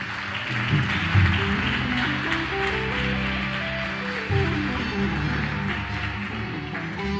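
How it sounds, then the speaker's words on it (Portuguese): A church congregation claps for several seconds, a dense, even patter of applause with a low sustained tone and faint voices mixed in beneath it. "Você pode aplaudir o Senhor, querido?"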